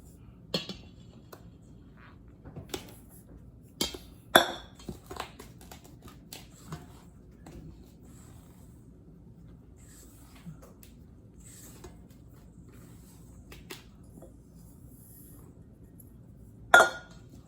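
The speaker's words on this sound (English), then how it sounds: "So now I'm gonna put my dry ingredient into my wet ingredients." Sparse clinks and taps of a utensil against a bowl as dry ingredients are added to wet ingredients for carrot banana bread, faint and intermittent with a louder knock near the end.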